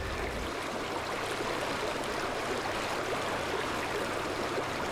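Water flows steadily into a restored nature area, a constant rushing, gurgling wash at even volume throughout, with no talking.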